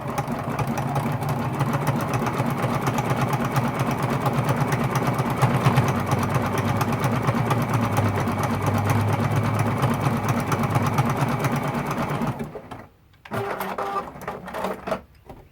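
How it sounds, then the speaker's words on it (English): A sewing machine runs fast and steadily, close up, zigzag stitching bias tape onto a quilt edge, then stops near the end with a few short clicks and shuffles. "the zigzag stitch secures our bias tape and closes off those edges"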